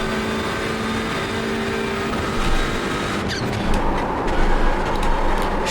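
A Hyundai Elantra race car engine in the iRacing game at Watkins Glen drones steadily near and loud, its tone shifting as it pulls on the power, with brief rattles and clicks toward the end.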